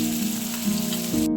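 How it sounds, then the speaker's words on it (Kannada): Chopped onions and tomato fry in a pan while being stirred, producing a short burst of loud, even, rain-like sizzling hiss. "ಈರುಳ್ಳಿ ಸ್ವಲ್ಪ ಫ್ರೈ ಆಗೋವರೆಗೂ ಕೈ ಆಡಿಸ್ತಾನೆ ಇರೋಣ."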